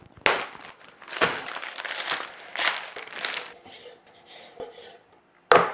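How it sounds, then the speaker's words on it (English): Plastic packaging crinkles and rustles as beef, pork and fatback for sausage making are pulled from their packs, with uneven bursts of crumpling and a few light clinks, close up, ending in a sharp crackle. "let's get these meats and fats out of the pack"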